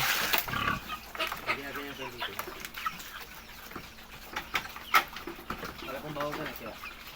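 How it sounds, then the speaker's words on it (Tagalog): Pigs in a small pen at feeding time, grunting and squealing in short bursts, with someone talking over them and a chicken-like clucking mixed in. "Baboy yan."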